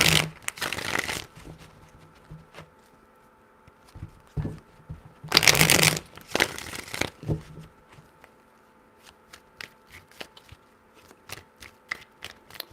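Tarot cards are shuffled by hand in three bursts of quick riffling, loud and close, with soft taps and card handling between them.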